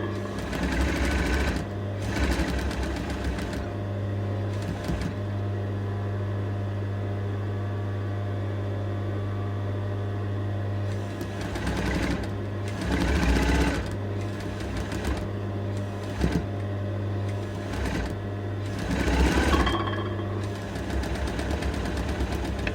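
A domestic sewing machine stitches stay tape onto a dress neckline, its motor whirring in several bursts of steady running, with short pauses as the fabric is repositioned and a constant low hum underneath.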